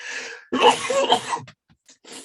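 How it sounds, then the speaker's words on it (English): A close, explosive sneeze bursts out after a short intake of breath, followed by a brief quiet and some faint breathy sounds. "I'm going to sneeze."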